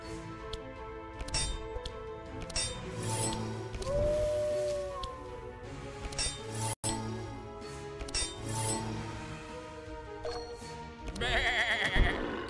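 Sheep bleating in the video game Across the Obelisk, a few wavering bleats rising over layered game music, chimes and clinking effects, with a bright shimmering flourish near the end.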